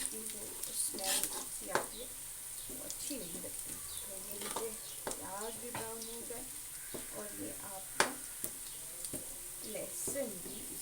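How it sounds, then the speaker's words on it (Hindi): Garlic and onions browning in a frying pan for aloo salan, a soft steady sizzle with occasional stirring and utensil clinks, mostly beneath someone speaking throughout. "ये जो एक जगह लहसुन का हमने काट के रखा है इसको भी इसके साथ ही ब्राउन करेंगे।"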